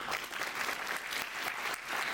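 An audience claps at a book launch for an AI book held at a school in Ranchi. The applause is continuous and moderately loud, with a dense patter of many hands throughout and no speech over it.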